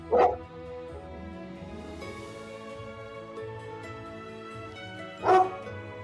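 A dog barking during an online call gives two short, isolated barks about five seconds apart, clear above a steady musical background.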